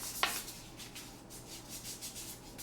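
Carbon fiber drone frame arms being sanded by hand, a soft steady rubbing scrape with a faint sharp tick near the start, close and quiet with no talking.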